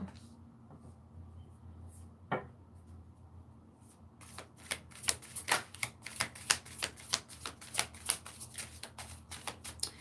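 Tarot cards are shuffled after a quiet stretch with one soft knock, then a rapid run of crisp riffling snaps and flutters at close range that continues to the end.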